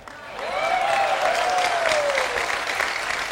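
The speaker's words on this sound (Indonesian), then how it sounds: "tepuk tangan sekali lagi, bismillah" Audience at a Sinau Bareng gathering at Ponpes Segoro Agung in East Java breaks into loud, sustained clapping, swelling within half a second and holding steady, with a long rising-and-falling whistle or tone sliding across it.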